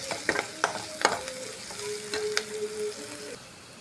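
Onion frying with garlic and green chillies in a pan, giving a soft sizzle with stirring clinks and scrapes across a few seconds.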